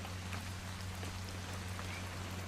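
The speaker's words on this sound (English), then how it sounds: "It's gonna rain the whole weekend, isn't it?" Steady rain falls continuously over a low, constant hum, a dense even patter with no breaks and no voices.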